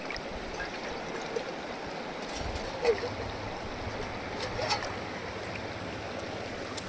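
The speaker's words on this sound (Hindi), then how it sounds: "इधर की साइड जो रेणुका नदी है वो कुछ इस प्रकार से बह रही है" Where the Renuka and Chaitravati rivers meet, flowing water rushes steadily, an even close wash of stream noise with a couple of faint splashes and no clear talk.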